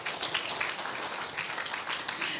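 A church congregation applauding during a worship service: dense, continuous clapping from many hands, moderately loud and fairly near, filling the short stretch without a pause.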